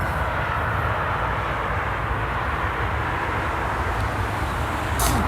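A steady, loud roar of cars exiting a road tunnel at the Pas de l'Escalette in France echoes continuously, with no pauses and no voices.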